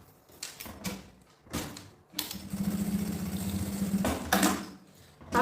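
A sewing machine runs a seam on a small multipurpose organizer pouch, a sustained close whir of about two seconds following brief bursts of fabric handling and shorter stitching runs.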